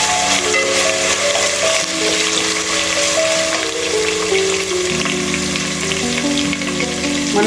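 Green chillies frying in hot oil after ginger-garlic paste for veg biryani, a steady, close, moderately loud sizzle running the whole time with no talking.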